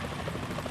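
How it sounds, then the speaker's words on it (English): Helicopter approaching in Metal Gear Solid 2: Sons of Liberty, a brief dense rotor throb with rhythmic chopping pulses, loud and continuous. "Is that a chopper I just heard?"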